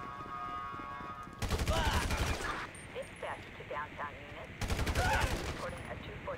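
Gunfire in Grand Theft Auto V comes in two loud bursts of rapid automatic shots separated by a short lull, with scattered game sounds and quieter shots between them.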